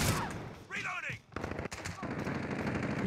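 Gunfire in Modern Warfare 2019, with bursts of rapid automatic shots and a sharp whizzing sweep partway through, fairly loud and mixed with game sound effects.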